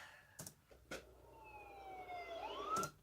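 A distant siren wails in rising and falling tones behind a few sharp clicks, faint and far off in an otherwise quiet scene.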